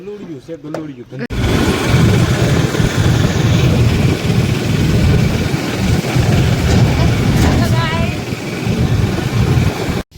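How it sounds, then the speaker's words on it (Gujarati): A small tractor engine runs steadily with a low rumbling chug, loud and close, continuing throughout after a brief moment of voices at the start. "આ ટ્રેક્ટર નાનું એવું લાગતું હશે ને"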